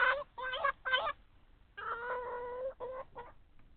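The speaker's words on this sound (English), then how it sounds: "Really loud chickens this morning." Chickens in Farming Simulator 25 cluck nearby in a series of loud, choppy bursts with short pauses between, one stretch drawn out longer than the rest.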